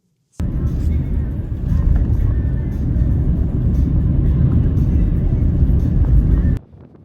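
Car driving on Lewis and Harris in the Outer Hebrides, a steady loud road and engine rumble heard from inside the cabin, with wind buffeting, running continuously for several seconds before cutting off abruptly.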